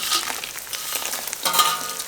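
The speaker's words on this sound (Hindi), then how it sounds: "तो घी गर्म हो गया। अब सबसे पहले डालूंगी मैं इसमें गोंद।" Pieces of edible gum (gond) dropped into hot ghee in a kadai, a short burst of bubbling sizzle with crackles that swells again near the end; no talking.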